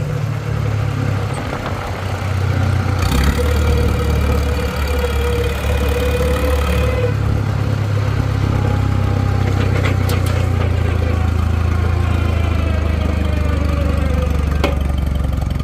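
Case tractor with Case-O-Matic drive running near, its engine rumbling steadily and rising briefly in speed with a shift, loud and continuous without talking.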